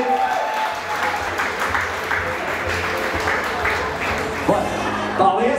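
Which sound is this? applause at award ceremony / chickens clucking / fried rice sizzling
applause at award ceremony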